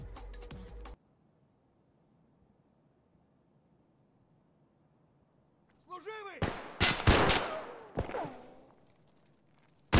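Gunfire in the video game Escape from Tarkov: one loud shot opens, followed by a long near-silent pause, then a cluster of sharp, close shots with ringing tails, and a final blast.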